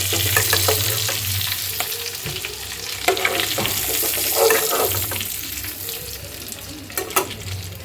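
Shrimp fry in hot oil with a dense, close sizzle, broken by a few scraping and clinking stirs, with a watery hiss running underneath and no one speaking.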